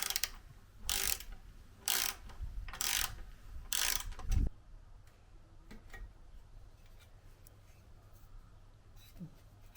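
Ratchet wrenches undo two bolts on a Honda PC50 K1 frame, with five bursts of rapid, loud clicking in quick succession, followed by quieter metallic handling and small knocks.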